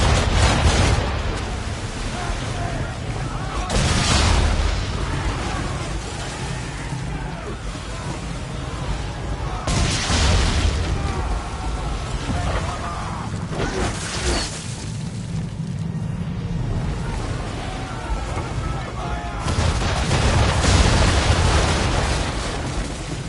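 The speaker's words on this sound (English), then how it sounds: "Use the swivels on attack." Cannon-like booms from swivel guns firing at an English frigate during a naval battle in Assassin's Creed 3, several heavy blasts spaced across a loud, continuous wash of sea and ship noise.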